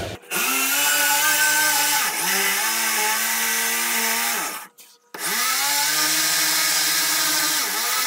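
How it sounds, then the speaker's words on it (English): A powerful drill drives a 25 mm Forstner bit down through wood for a water cupboard build, a loud steady whine that dips under load, stops briefly near the middle, then resumes just as loud. "25 mil Forstner bit, and I'm just going to put a hole down through it"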